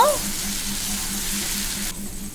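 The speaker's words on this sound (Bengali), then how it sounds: "তো আলুগুলো আমার বেশ সুন্দর করে ভেজে নেব।" Potatoes frying in hot oil in a covered pan, giving a steady broadband sizzle that holds at an even level throughout, with a faint low hum beneath and a slight drop near the end.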